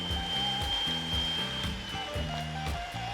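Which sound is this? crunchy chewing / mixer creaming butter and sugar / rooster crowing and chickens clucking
mixer creaming butter and sugar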